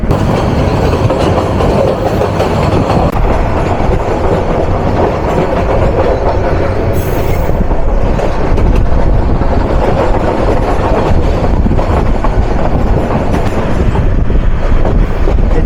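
The Turna Nishita express train runs on the rails from Chattogram toward Laksam Junction in Cumilla, Bangladesh, making a loud, continuous rumble with steady clickety-clack wheel rhythm heard from on board.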